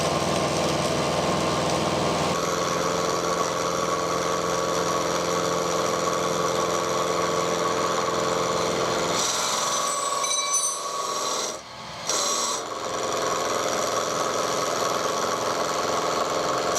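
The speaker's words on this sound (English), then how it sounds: "it will do a good job of squaring up this box section, because that bandsaw does need some work doing" Bandsaw in need of new rollers and setup cuts stainless steel box section offcuts, a steady whining drone running throughout, briefly dipping near the end.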